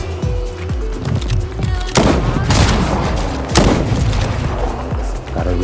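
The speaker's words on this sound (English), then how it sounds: "He's just shooting" Fortnite gunfire in rapid bursts, with several loud sharp shots and heavy booming blasts close by, a few fainter shots around them and a dense crackle in the middle.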